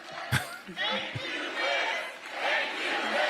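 Crowd at a Harris/Walz campaign rally applauding and cheering, a sustained roar of clapping and shouting voices with a couple of sharp thumps near the start.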